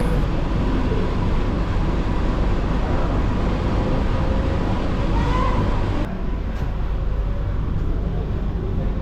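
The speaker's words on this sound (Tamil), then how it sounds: "இப்போ பார்க்கில் தான் ட்ரெயின் ஸ்டார்ட் ஆகிடுச்சிங்க" An AC EMU electric train from Chengalpattu to Chennai Beach rumbles steadily along, a dense, loud roar of wheels and motion filling the clip, with a brief dip in the noise partway through.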